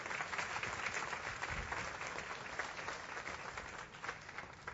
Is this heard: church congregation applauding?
yes